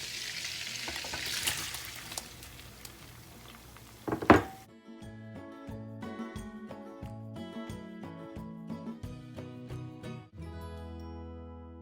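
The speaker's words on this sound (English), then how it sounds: "now that our butter is nicely melted, we are going to go ahead now and we're going to add our shrimp" Raw shrimp drop into melted butter in a hot pan, a loud broadband sizzle that spikes at the moment they hit and then settles into a steady crackling fry with faint stirring clinks, with no one speaking.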